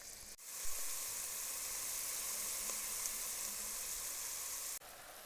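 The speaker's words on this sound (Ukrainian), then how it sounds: "Обсмажуємо цибулю на олії до прозорості." Steady, continuous sizzling of onions frying in hot oil until translucent, close and even throughout with no talking.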